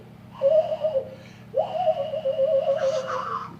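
A breathy, hollow whistle blown through two cupped hands, twice, a short low note then a longer wavering one, close and alone over a faint hum.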